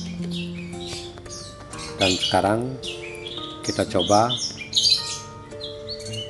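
Caged orange-headed thrush kept in heavy condition: harsh squawks and bursts of chirping calls, loud and close, with several clear rising call sequences, while someone talks quietly in places.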